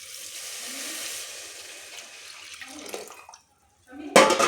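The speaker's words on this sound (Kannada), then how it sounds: "ಅದರ ನೀರನ್ನ ಇವಾಗ ಇದಕ್ಕೆ ಹಾಕೋಣ ಸಾಂಬಾರಿಗೆ" Horsegram cooking water poured from a vessel into sambar, a close continuous splashing pour that tapers off, pauses briefly, then ends with a short louder splash.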